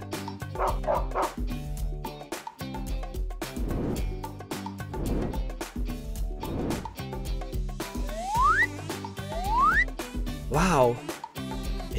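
A lively dog barks and yips repeatedly in close, energetic bursts, with whimpering and a couple of rising squeaky tones between them and faint voices in the background.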